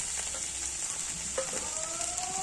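Ginger paste, crushed green chillies, turmeric, cumin and coriander powder frying in a pan for a duck egg curry, a steady bright hiss of sizzling oil with a few faint clinks, moderately close.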